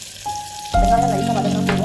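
Onions hit hot oil in a pan and break into a loud, steady sizzle that carries on alone after a quieter opening.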